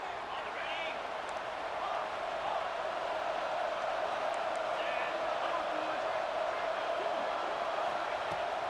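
A stadium crowd roars in EA Sports College Football 26, a constant, even wall of distant crowd noise with faint voices rising within it and no breaks.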